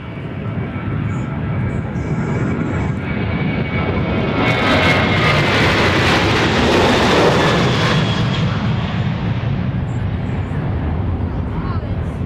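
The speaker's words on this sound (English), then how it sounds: "So here goes the flight to Atlanta, the MAX, I'm sorry, the 737-800" A Boeing 737-800 airliner departing Dallas Love Field for Atlanta makes a steady, broad jet-engine roar that swells to a peak midway and then holds as it passes. Someone talks faintly underneath.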